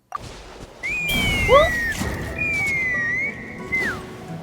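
A loud, sustained high whistle during Chasca's story quest in a video game, holding long steady tones, with a few quick sweeping chirps, over rumbling game background noise.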